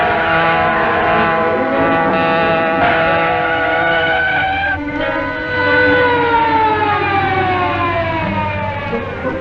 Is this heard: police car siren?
yes